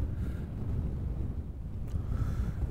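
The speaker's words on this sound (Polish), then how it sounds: "Trochę wieje" Wind buffets a microphone outdoors in Trujillo, Peru, a low, rumbling, gusty roar that holds steady for a few seconds with no voices.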